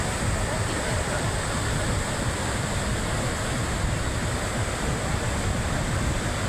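A waterfall about 30 m high pours between marble rocks near Jabalpur, a steady, loud, broadband roar of falling water that never lets up.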